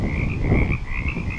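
A dense chorus of frogs croaks steadily at night, a continuous layered trill carrying close and loud with no talk over it.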